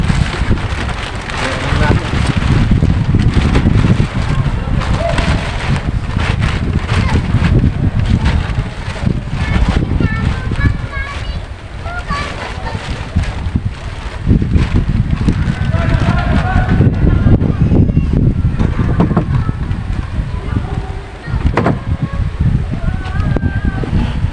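Strong wind from Typhoon Uwan roars close and constant, with rain spattering on surfaces and gusts buffeting the microphone, while people talk over the storm.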